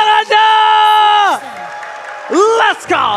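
A crowd at an esports arena match of Mobile Legends cheers and whoops loudly with some clapping beneath, sustained voices rising and falling over a few seconds.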